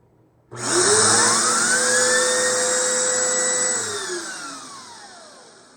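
A Bissell PowerForce Turbo Rewind Pet vacuum cleaner switches on abruptly and its brush roll spins up to a high, steady whine, then gradually winds down near the end.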